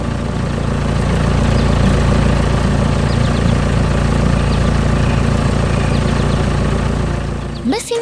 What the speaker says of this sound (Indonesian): Mesin konstruksi hijau sedang bekerja keras di tanah berwarna coklat.